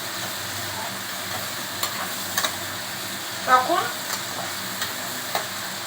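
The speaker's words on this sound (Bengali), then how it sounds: "রসুনটা যখন ভাজা ভাজা হয়ে যাবে" Garlic fries in a pan with turmeric in a soft, steady sizzle, broken by a few light clicks and stirring clatters. A brief spoken word can be heard.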